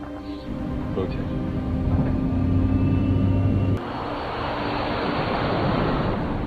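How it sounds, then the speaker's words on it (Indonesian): An airliner taking off from a runway in an action film, a steady loud engine roar with low rumble that swells and then gives way to a broad rushing noise, with dialogue underneath. "akhirnya pesawat pun take off meninggalkan landasan Bacu."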